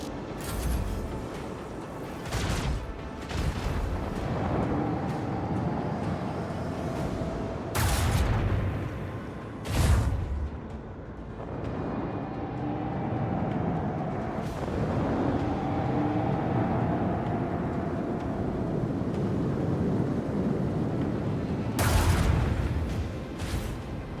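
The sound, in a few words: macro cannons firing in video game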